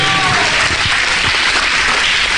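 A church congregation claps loudly together during a Spanish-language sermon, a thick, continuous burst of applause filling the room for a couple of seconds.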